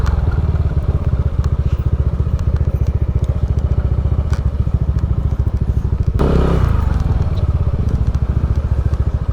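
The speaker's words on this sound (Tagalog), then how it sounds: "Tayo, nakakaya ba yung motor natin dyan?" Motorcycle engine chugging steadily as it rides over a rough trail on a moto camping trip in the Philippines, close and continuous with a burst of clatter and scraping partway through.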